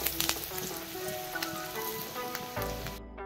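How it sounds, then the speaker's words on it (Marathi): Ground coriander-cumin powder and asafoetida sautéing in the filling for stuffed capsicum, giving a steady close sizzle with faint stirring clicks. "थोडे धने जिरे पूड आणि हिंग असं टाकूया आपण, आणि परत एकदा परतून घ्यायचंय"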